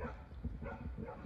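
A neighbor's dog next door to a compost garden gives a short burst of barking, fairly faint and distant, over a low background.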